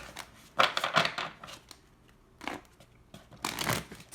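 A Romance Angel Oracle card deck is shuffled by hand in several quick, crisp riffling bursts with short pauses between them, close and clear with no talking.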